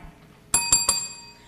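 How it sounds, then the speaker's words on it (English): A desk bell rings three quick bright dings in a row, close and clear against a quiet background. "Desk bells,"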